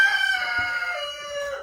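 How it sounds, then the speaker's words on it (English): A chicken on a farm gives a loud, close, drawn-out crowing call that slides downward over its length, with no one talking. "Part of the chicken making all the chicken noises."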